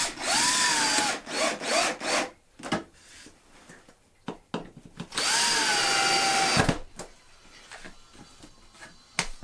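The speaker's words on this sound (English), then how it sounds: "I'm afraid I'm going to be using a power drill now" A power drill bores holes in wood on a benchtop spring pole lathe, two long whining bursts with rising and falling motor pitch, separated by short clicks and handling noise, close and loud.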